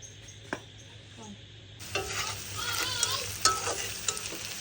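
Spices fry in a pan for a noodle-and-potato dish, a quiet start giving way near the two-second mark to a loud, steady sizzle with crackles and stirring scrapes, no talk over it.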